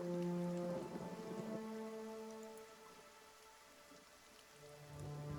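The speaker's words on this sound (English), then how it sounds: "Enjoy the rain." Rain falls in the video game Pillars of Eternity as a soft, steady patter. Sustained musical tones play over it, and no one speaks.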